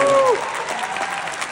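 A crowd at an Italian music award ceremony applauds in a dense burst of clapping, with a brief tonal voice or sound at the start fading into the steady applause.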